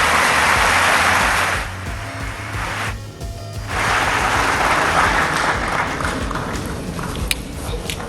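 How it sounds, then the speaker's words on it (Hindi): Loud, dense applause from the crowd at the Pradhan Mantri Rashtriya Bal Puraskar award ceremony for President Droupadi Murmu. It dips briefly partway through, then surges back and holds steady. "एक बार जोरदार तालियां माननीय राष्ट्रपति महोदया के लिए"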